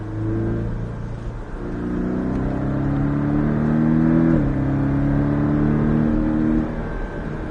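A Porsche Cayman S accelerates hard on a driving course, its engine note rising steadily through a gear, briefly dipping at a shift, then climbing again, loud and close, with no speech.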